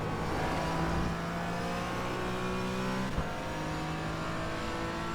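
Race car engine in a sim racing game on an outlap, a steady close drone holding a fairly even pitch with slight rises and falls, one short knock partway through.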